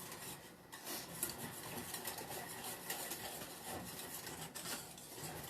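A spoon scrapes and rasps steadily around a pot of thickening lemon meringue pie filling over medium heat, a continuous close, quiet scraping texture with no talking.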